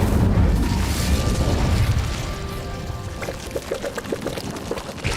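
Incendio fire spell cast in the Hogwarts Legacy video game: a loud roaring whoosh of flame bursts out at once, then gives way to scattered crackling pops as it fades.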